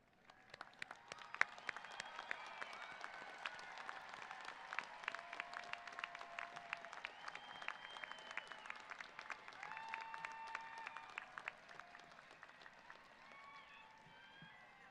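Graduates at the 2024 CSUN commencement for the College of Social and Behavioral Sciences draw sustained applause from a large crowd, sounding soft and distant. Continuous clapping carries on for about fifteen seconds, with faint scattered cheers or whistles.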